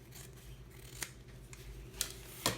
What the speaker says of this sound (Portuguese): Deixa eu cortar o excesso do meu forrinho aqui, que é pouquinho só, mas pra ficar bem certinho eu vou cortar